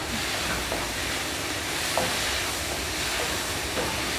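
Garam masala being stirred into a pan of sizzling onion, tomato and spice masala for veg salna, a steady frying hiss with faint scraping strokes, no talking.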